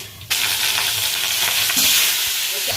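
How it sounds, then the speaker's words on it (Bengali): Potatoes fry in hot oil seasoned with salt and turmeric, a close continuous sizzle with light stirring scrapes and no talk. "আলুটা অনেকক্ষণ ধরে আমি ভাজাভুজি করছি"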